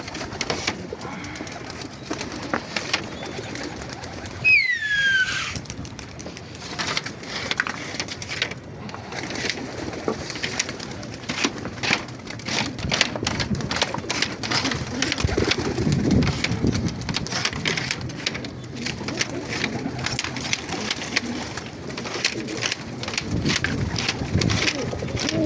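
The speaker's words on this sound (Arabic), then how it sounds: "الحمام بيخبط في ظهري" Pigeons cooing continuously at close range with brief wing flaps and rustling, set against steady background noise for the whole stretch.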